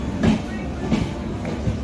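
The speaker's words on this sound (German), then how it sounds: "Mit dem Nachtzug fahren wir nach Chennai." Night train bound for Chennai from Kozhikode, a steady rumble of a rail carriage in motion with rhythmic clacking beats, moderately loud and close.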